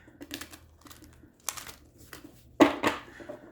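Soft papery rustles and flicks of tarot cards come in short bursts, building to a louder riffling snap near the end as they are shuffled close by.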